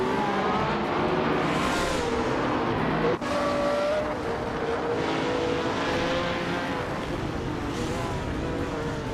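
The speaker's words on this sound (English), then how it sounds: "the race kicks off at Hungaroring" A pack of race cars launching at the Hungaroring circuit, led by a 2011 Lamborghini Aventador: steady loud engine roar with rising and shifting revving tones, close and continuous throughout.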